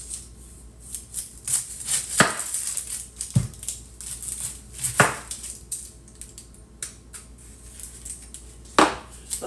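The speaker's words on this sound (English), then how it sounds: "Now do my yellow onion." Yellow onion chopped with a knife on a cutting board, several sharp separate cuts spread over the stretch, close and fairly loud against quiet kitchen background, no talking.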